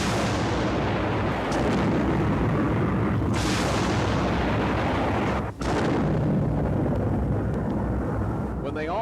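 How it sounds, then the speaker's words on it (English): USS Iowa battleship's big guns firing a broadside at sea, deep booming blasts with long rumbling roar and a sharp crack midway, loud and close, with shipboard voices mixed in. "When they all fire at once, it's called a broadside."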